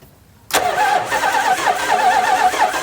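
After a brief silence, a 1982 Imperial's fuel-injected engine turns over and fires up at once, then keeps running steadily at close range.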